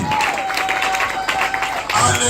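A church congregation applauds and cheers for Jesus in a short, dense burst of clapping and crowd noise, with a voice and a sustained tone running underneath.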